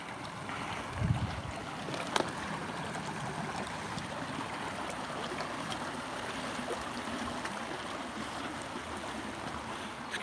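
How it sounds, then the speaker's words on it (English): A brook swollen by high water rushes steadily and close by on a walk, its broadband wash continuous and even throughout, with a couple of faint knocks. "Let's get through this stream"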